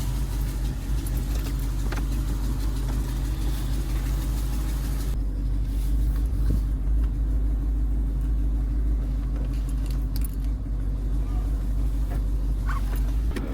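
Engine of a rebuilt Dodge SRT8 car rumbles steadily from inside the cabin, a constant low drone with faint road noise as it drives, occasional light cabin clicks and no talking.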